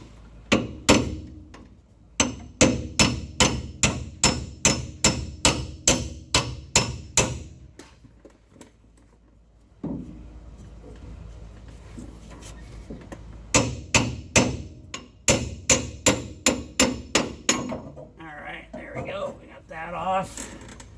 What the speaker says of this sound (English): Take a hammer maybe and pop that thing off there.